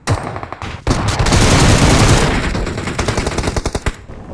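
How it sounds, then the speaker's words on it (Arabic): Dense, loud automatic gunfire in the PUBG Mobile video game, a sustained burst of rapid shots that then breaks into separate quick volleys, close and alone without talk. "وانت واقف جنب الضرب اللي تسمع الضرب"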